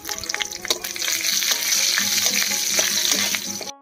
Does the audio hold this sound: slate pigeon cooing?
no